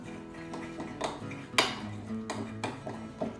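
Spoon or whisk clinking and scraping against a bowl while stirring homemade face mask ingredients, with a few sharper taps standing out in a short, close burst of activity.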